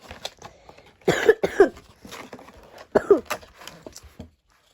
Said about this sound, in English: I'm really sorry about this cough, but you know, because it's a cold